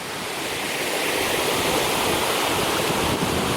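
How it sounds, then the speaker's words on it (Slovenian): A river rushing down a steep drop makes a dense, continuous roar of water, loud and steady from start to finish, with no voices. "Reka kar ima dober padec"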